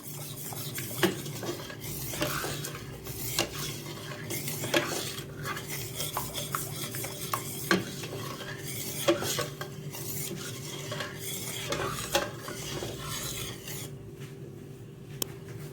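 A pot stirred after browning and soy sauce are added, continuous scraping and sizzling with repeated light clinks of a utensil against the pot, steady and close, with no talking.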